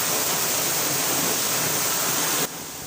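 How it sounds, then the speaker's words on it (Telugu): Heavy rain falling in Konkan, Maharashtra, a dense steady hiss close by that drops off sharply near the end. "నేనున్న ప్రదేశంలో వాన ఎక్కువగా పడుతూ ఉంటుంది."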